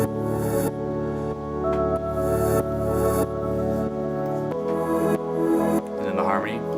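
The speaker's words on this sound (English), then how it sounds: "I chopped that up and harmonized it, so the first one sounds like this." Chopped, harmonized vocal pad samples swell in breathy, sustained chords that pulse in repeated sections, joined near the end by a lower layer and a brief rising vocal flourish.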